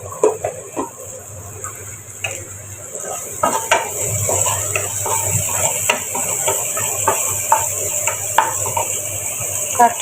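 Chopped onions and whole cumin frying in oil in a hot frying pan, a steady sizzle and hiss with scattered clinks of a utensil against the pan, close up.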